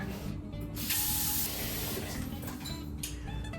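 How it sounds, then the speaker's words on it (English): Water from a tap fills a cooking pot for pasta in a home kitchen, a steady rushing hiss that runs for several seconds with no voices. "Next, I'm going to prepare my pasta water."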